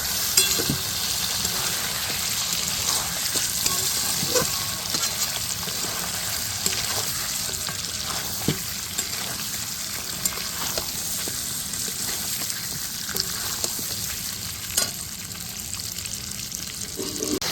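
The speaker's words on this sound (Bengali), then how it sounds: "চিকেনটাকে দিয়ে দিব ভালো করে মশলাটা এর সাথে মিশিয়ে নেব" Fried chicken is stirred into a masala in a pan, a continuous moderate sizzle with scattered scraping and clinking of the spoon against the pan throughout.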